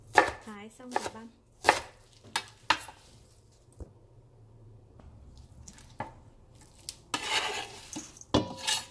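Herbs are minced on a board with a knife, giving a few quick, irregular chops and then a quiet pause. A burst of faster chopping and utensil clatter follows near the end, close by and fairly soft.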